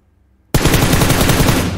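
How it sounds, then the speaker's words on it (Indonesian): Rapid automatic gunfire in PUBG, a tight burst of evenly spaced shots that starts sharply after a half-second of near silence and runs loud and close to the end. "di detik-detik pertama kalian nembak kalian kalah satu peluru kalian bisa mati"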